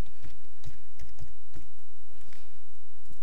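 A password is typed on a computer keyboard: a short run of crisp, close key clicks in uneven rhythm, about eight presses clustered in the first two seconds, then quieter isolated taps.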